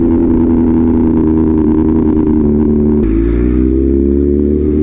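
A BMW M1000RR sport bike fitted with a loud aftermarket exhaust revs hard and close, a raspy sustained roar that drops and re-settles into a deeper tone partway through, with no talking.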